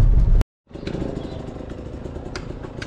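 A race motorcycle's engine runs at a steady, fairly loud idle after a brief louder burst and a moment of silence, early morning before the Roof of Africa race.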